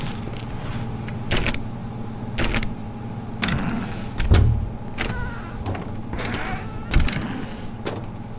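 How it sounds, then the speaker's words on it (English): A strange mechanical door opening in the video game The Stanley Parable, a series of clanking clunks and hissing mechanical bursts spaced about a second apart, over a steady electrical hum, with a heavier thud near the middle. "That's a very unusual door."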